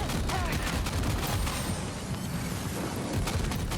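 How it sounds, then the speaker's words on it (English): Allied squad fire from Death Stranding 2 rattles as a dense, continuous fusillade of overlapping gunshots and bursts, loud and close, with no pauses across the whole stretch. "Nothing better than a bit of covering fire from my ladies!"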